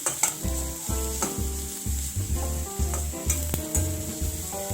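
Chopped green chillies are stirred and fried in a pan, giving a continuous close sizzle broken by regular scraping strokes of a spatula, with no speech.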